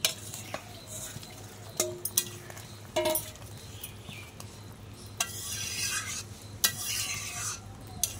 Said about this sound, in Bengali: তো একটু নেড়ে চেড়ে দিলাম